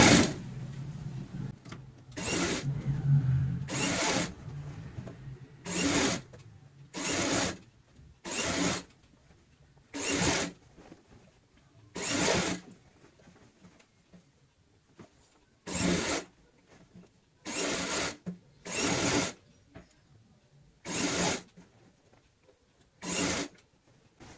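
A sewing machine stitches a homemade cloth handbag, running in about eleven separate bursts of a second or so each, with quiet pauses between them as the fabric is repositioned.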